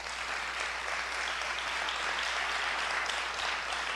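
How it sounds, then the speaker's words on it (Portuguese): A church audience applauds: steady, dense clapping from many hands, sustained and even for the whole stretch, with no talk over it. "Vamos aplaudir a atitude dessa moça?"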